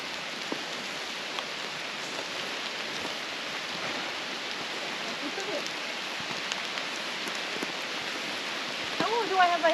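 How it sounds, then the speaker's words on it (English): Rain falls steadily through an old-growth hemlock forest on a rainy autumn hike, a soft continuous hiss of drops with occasional faint taps, and brief voices rising near the end. "I'm still getting raindrops hitting me in the eye?"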